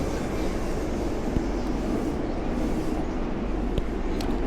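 Moscow Metro subway train running with a steady, loud rumble and rush throughout, a continuous close roar without clear pauses, with a few faint clicks and squeaks over the noise.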